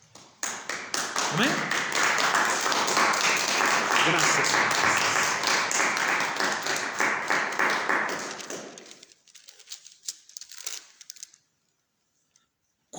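A church congregation applauding, dense clapping rising quickly and holding for several seconds before thinning into scattered claps and fading out, with a few spoken words near the end.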